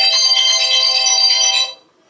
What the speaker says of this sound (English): My alarm. It's 6 o'clock.